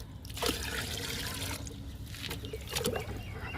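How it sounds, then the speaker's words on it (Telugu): Plant-feed liquid trickles and pours into 10 litres of water in short splashy bursts, close by, with gentle sloshing in between. "3 డబ్బాలు లిక్విడ్ పోస్తున్నా."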